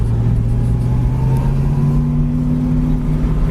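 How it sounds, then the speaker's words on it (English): A 1965 Ford Mustang engine idles and runs steadily up close, a low rumbling hum with a smooth, even tone throughout. "this little Mustang really runs good, sounds good"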